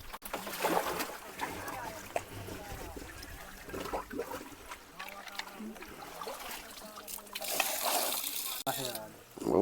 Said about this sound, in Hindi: देखा दोस्तों किस तरह से महाराज जी कुंड से जल निकालते हैं